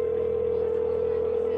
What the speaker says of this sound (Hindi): फिर उसने बैंक में फोन मिलाया